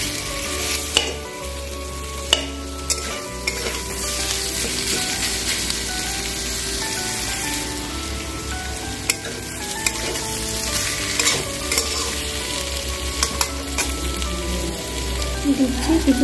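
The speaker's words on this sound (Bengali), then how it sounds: "মশলার সাথে এগুলো আমি একটু কষিয়ে নেব।" Mixed vegetables sautéing with spices in a pan for veg cutlets, a steady close sizzle and crackle with occasional scraping stir strokes, no talk.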